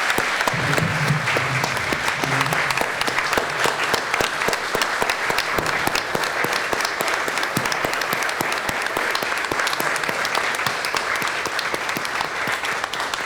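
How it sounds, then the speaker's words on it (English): A room full of people at a village board meeting gives a sustained round of applause after a police award, thick continuous clapping for over thirteen seconds, close and steady, with faint voices early on. "How about a round of applause?"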